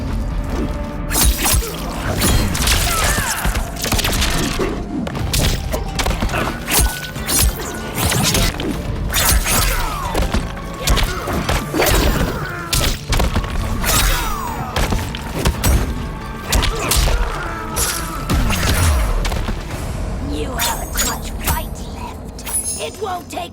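Mortal Kombat 1 fight plays out with dense, loud punches, thuds, crashes and shattering hits in rapid succession, mixed with game voices and effects.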